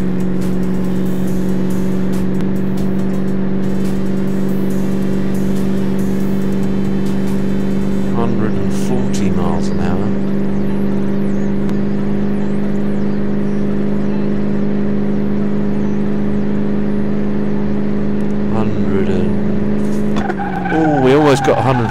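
A 1929 Lincoln Model L engine races at high speed in Car Mechanic Simulator 2018, a loud, steady droning hum that holds for most of the stretch, with a few brief disturbances and a shift in tone near the end.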